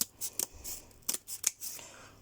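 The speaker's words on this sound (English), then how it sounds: "Now I'm just going to cut down it to make it into a double." Scissors snip through a long strip of cardboard, a few short crisp cuts in an uneven rhythm, close and fairly quiet with pauses between strokes.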